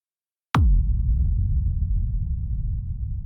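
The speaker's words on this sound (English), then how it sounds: "we have a diode 2 distortion" A hard techno rumble kick processed with diode distortion: one sharp punchy hit after brief silence, followed by a dense, gritty low-end rumble that sustains and slowly decays for several seconds.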